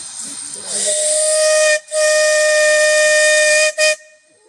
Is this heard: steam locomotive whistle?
yes